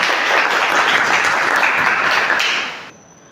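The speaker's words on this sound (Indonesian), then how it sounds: "tepuk tangan buat kita semua" Group applause in a guidance and counseling class session, a dense, even wash of clapping that holds steadily and then fades out near the end, leaving near silence.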